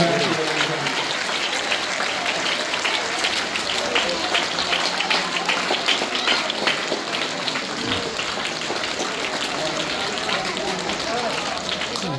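Children clap loudly and continuously at an Urdu school reception ceremony honouring a teacher with an award, a dense, sustained applause filling the room.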